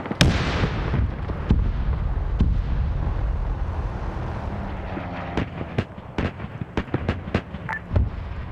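Gunfire in a WW2 tank video game, with Soviet armor firing at enemy armor, a heavy blast at the start and then a rumbling bed under a string of sharp shots and cracks later on.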